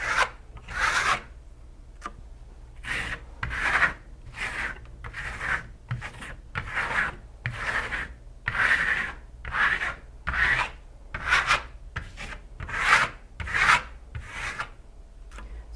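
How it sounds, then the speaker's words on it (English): Excess Shimmer Stone coating is scraped off a textured surface with a trowel in steady, rhythmic rasping strokes, each a short gritty burst close to the listener, with no talk. "when you're scraping off the excess amount of Shimmer Stone, you're actually revealing the highest points of the texture"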